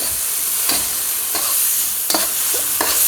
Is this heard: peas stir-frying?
yes